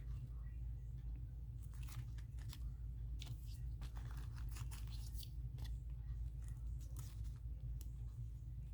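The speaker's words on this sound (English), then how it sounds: "I think I may have to cut these flowers" Scissors snipping paper flowers for a collage make a series of faint, crisp clicks and cuts in an irregular rhythm over a steady low background hum.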